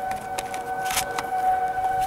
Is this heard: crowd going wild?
no